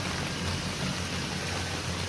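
Rain falls steadily at a village tourist spot in Kendal, Central Java, a dense, even hiss of drops on surfaces that stays constant and fairly soft throughout, with no speech.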